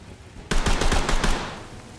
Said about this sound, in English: I think someone was shooting at us